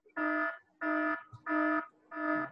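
A security alarm set off by a motion sensor sounds four steady, buzzy electronic tones of about half a second each, evenly spaced and fairly quiet, with no talking.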